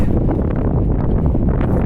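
Strong gusting wind buffeting the microphone outdoors near a waterfront construction area, a loud, constant low roar with uneven thumps and no other sounds.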